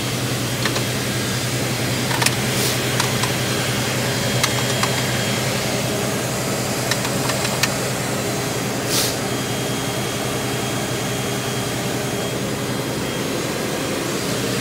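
Tractor engine running steadily while pulling a corn planter in the field, a loud, constant droning roar with a few faint clicks and rattles over it.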